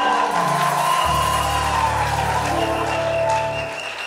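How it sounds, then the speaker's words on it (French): A church congregation applauds and cheers the choir at a service, with crowd clapping layered over sustained musical tones and a low hum that fades slightly near the end. "Nous célébrons le groupe musical aussi par nos acclamations"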